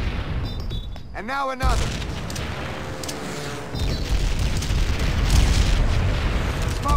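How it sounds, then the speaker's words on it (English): Frag grenades blow up in a Call of Duty: World at War basic training mission, two heavy booming blasts with rumbling debris under in-game gunfire and someone talking over the top. "Toss a frag grenade through it."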